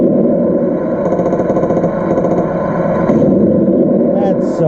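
Engine sound from a Tamiya 1/16 RC Full Option M551 Sheridan tank, a steady loud electronic rumble running throughout with a few faint high chirps toward the end.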